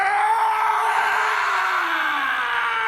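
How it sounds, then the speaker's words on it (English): Harvey Two-Face lets out a long, loud anguished scream in an animated Batman episode, one sustained wailing cry that slowly sinks in pitch. "Harvey screams."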